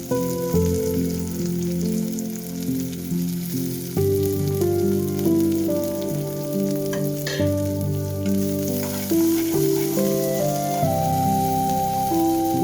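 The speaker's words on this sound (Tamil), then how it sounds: "ஒரு வானலியில் 2 ஸ்பூன் எண்ணெய் விட்டு நம்ம கட் பண்ணி வச்சுருக்க வெங்காயம், பச்சை மிளகாய், கருவேப்பிலை சேர்த்து நல்லா வதக்கிக்கலாம்" Sliced onion, green chilies and curry leaves sauté in two spoons of oil in a pan for aloo paratha filling, a steady soft sizzle sitting beneath loud, continuous background music that dominates throughout.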